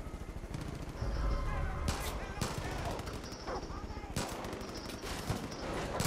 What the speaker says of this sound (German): Ich hab geschossen.